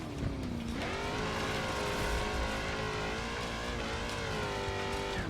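An off-road vehicle in a BeamNG King of the Hammers rock-crawling race, its engine revving hard and continuously with rising and falling pitch, loud and close.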